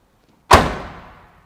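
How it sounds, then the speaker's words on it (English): A 1968 Pontiac GTO convertible's car door shuts with one solid, close thud and a brief ringing decay, with no other sound around it. "Now, listen to this door. This is a convertible door."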